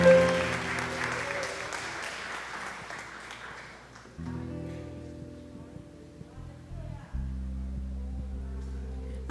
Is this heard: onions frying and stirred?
no